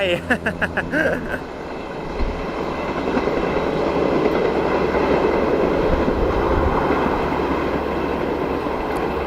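A train passes through Ban Pok Paek railway station in Thailand, starting with brief tonal sounds and building into a loud, close, steady rumble and clatter of wheels and cars.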